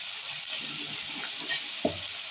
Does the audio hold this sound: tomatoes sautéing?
yes